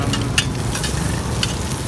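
Bột chiên, fried rice flour cake, sizzles and is stirred on a griddle at a street food cart near Cây Gõ market in Saigon's District 6, with steady close frying hiss and a few sharp scraping spatula strikes.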